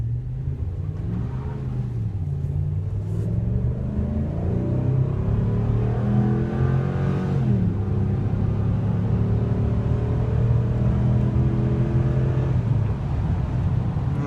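A 2014 Ram 1500 Big Horn pickup with a V8 accelerates hard from 0 to 70, its engine note climbing steadily through the gears. The loud, continuous rumble comes from close by and carries alone with no talk, then drops off near the end.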